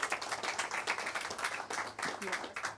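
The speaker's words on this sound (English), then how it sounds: "let's have one more round of applause" Fairly faint applause at a school district board meeting, a steady crowd of clapping hands with speech-like voices mixed in, continuing evenly for the whole stretch.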